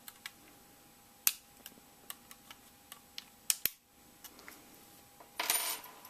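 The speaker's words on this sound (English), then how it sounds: "So what we need to do is undo the screws in the corner." Small metallic clicks and ticks of a screwdriver working small screws on a PS3 hard drive cradle, sharp isolated taps spaced irregularly in a quiet room, ending in a brief rattling scrape.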